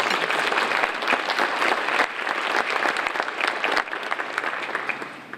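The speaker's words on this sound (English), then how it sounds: "So let's give you a round of applause and also our sponsors." Audience applause at a Hall of Fame dinner, a dense, steady wash of many hands clapping close by that fills the room throughout and eases off slightly near the end.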